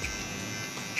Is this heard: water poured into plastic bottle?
no